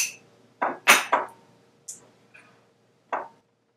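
A utensil knocks against a bowl while flour blend and salt are stirred together for a gluten-free sourdough pie crust, a handful of sharp isolated clinks and taps, close and clear.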